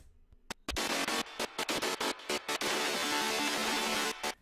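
A thick, gritty breakdown sound built from a grinding monophonic synth stacked with a wide polyphonic supersaw, loud and dense, with short choppy gaps early on before sustaining as a continuous wall of sound.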